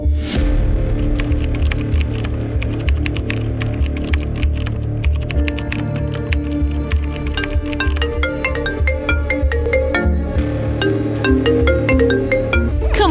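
A phone ringtone chirps in quick repeated electronic tones over a steady musical background, continuing throughout without any voices.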